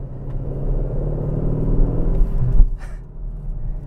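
A 2020 Aston Martin DB11 Volante V8 cruises along a small, winding road with a low, steady engine rumble that swells briefly and then eases off. Heard from inside the car with no talking.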